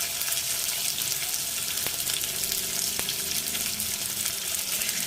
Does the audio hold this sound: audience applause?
no